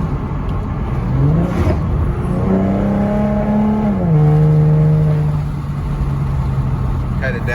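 A 2014 Mustang with a Roush axleback exhaust downshifts while driving, its engine rising sharply in pitch with a rev blip, then settling into a loud, steady droning growl that drops a step lower, all close and with no talking.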